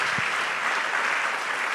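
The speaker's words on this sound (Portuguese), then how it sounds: "Uma salva de palmas para Jesus." Brief burst of steady applause from a church congregation, a dense even clapping throughout with a faint voice at the start.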